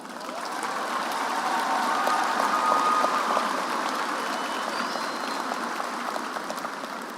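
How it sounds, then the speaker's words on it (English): At Muhlenberg High School's 2024 commencement, a large audience applauds the graduates' families, the clapping swelling in over the first second and then holding as a broad, even roar that stays distant and continuous. "take a moment and applaud the families that helped us be here today"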